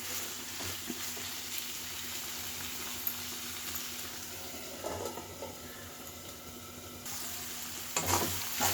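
Ivy gourd (dondakaya) pieces frying in oil while being stirred, a steady low sizzle with occasional scraping stir noises, fairly quiet and without talk.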